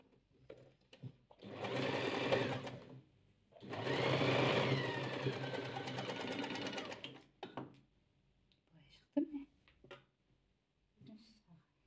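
Sewing machine stitching along both edges of gold patchwork in two sustained bursts, near and loud, with brief pauses and faint handling sounds between runs.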